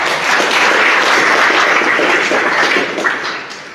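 Loud applause from a crowd, sustained clapping that holds steady and then fades out near the end.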